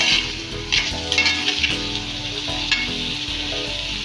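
Potato pieces fry in hot oil with bay leaf, cinnamon and cardamom, a continuous close sizzle with bursts of crackle and a few soft stirring knocks, no voices.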